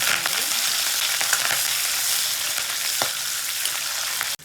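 Garlic, two dried red chilies and curry leaves fry in hot oil for a thotakura pappu tempering, a loud, dense, continuous sizzle with faint scattered pops and stirring clicks, close up and steady until it cuts off abruptly.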